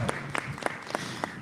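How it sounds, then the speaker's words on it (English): An audience at a live roast event applauding, a short burst of claps with several distinct sharp hits over a steady patter. "We need to give her a round of applause"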